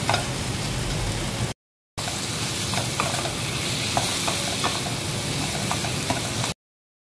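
Chicken and sausage sautéing in a pan with a steady, loud sizzle, spatula stirring and scraping in repeated short knocks, with a brief gap of silence partway through and no talk.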